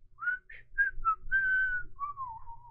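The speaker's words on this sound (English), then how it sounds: "that little whistle is kind of haunting" Whistled melody from an album track, a few short clear notes followed by longer sustained and gliding tones, bright and upfront over a faint low backing.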